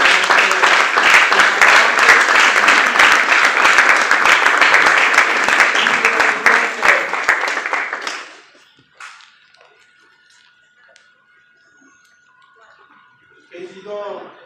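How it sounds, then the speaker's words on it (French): A crowd at an awards ceremony applauds loudly and steadily for about eight seconds, then the clapping drops away abruptly into near quiet, with a voice coming back faintly at the very end. "Sous nos applaudissements"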